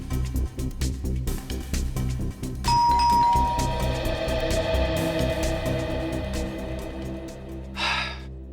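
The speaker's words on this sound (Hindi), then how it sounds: "आप एक बार और घंटी बजाने का कष्ट करें।" A two-tone doorbell rings in a house, a clear chime that hangs and decays over a steady room hum, with a brief breathy noise near the end and no talking over it.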